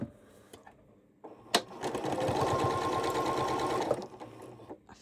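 A sewing machine stitches a quilt block in one continuous fast run of about three seconds, close and clear, with quiet handling noises before and after.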